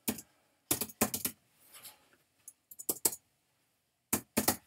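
Quick bursts of typing on a computer keyboard, clustered key clicks separated by short pauses, close and fairly quiet.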